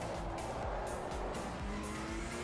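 A Ferrari 488 GT3 EVO race car at Kyalami in the Assetto Corsa Competizione racing game, its engine roaring loud and close with rising and falling revs and brief tire squeal as it fights for position.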